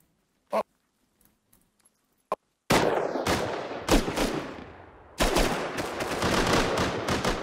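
Bursts of gunfire in the survival game Rust: one sharp isolated shot, then a long, loud stretch of rapid shots with a brief gap before a second sustained volley, close and harsh.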